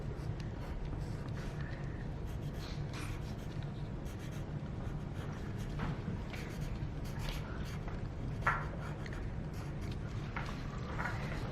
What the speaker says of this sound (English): you're just going to draw some points to put your wheels on